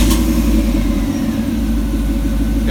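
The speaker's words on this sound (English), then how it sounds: "Remote start button one time, lights flash, engine cranks." Engine of a 1989-1998 Chevy Silverado running steadily after being started by a Viper remote start, a loud, continuous low rumble heard up close with no talking.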